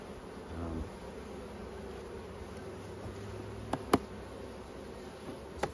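Honey bees in a weak, failing hive that has swarmed without requeening, with a steady low buzz close by and a couple of sharp knocks near the end.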